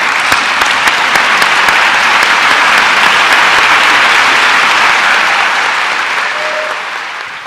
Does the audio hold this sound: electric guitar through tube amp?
no